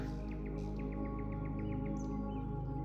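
Songbirds chirp in a repeated series of short, bright calls over a steady low hum, set in a calm nature scene with a waterfall mentioned nearby.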